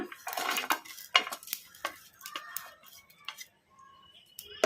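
Spoon scraping and clinking in a pan while stirring peanuts, coriander, dry coconut and cashews, a quick series of close taps and scrapes that thin out into sparse clicks, fairly faint.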